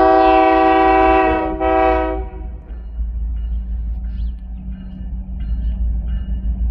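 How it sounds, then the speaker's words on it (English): A geometry train at Winslow, near La Posada, sounds a loud, sustained horn blast with a short break, then rolls on with a steady low rumble. "that train."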